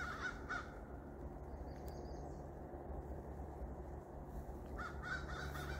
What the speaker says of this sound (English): Crows are coming